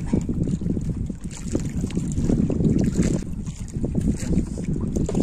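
Strong wind buffeting a microphone out on Laguna de Bay lake, a loud, steady rumbling roar with gusty swells and faint water sounds, continuous throughout.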